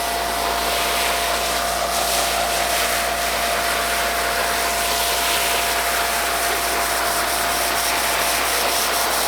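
A cheap no-dilution foam cannon sprays foam in a steady, close, loud hiss with a faint sputtering texture, continuing unbroken with no talk.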